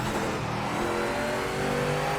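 Mercedes-Benz Sauber C9 race car engine in Project Motor Racing, a loud, steady high-revving roar with layered harmonic whine, held near and constant throughout with no voices.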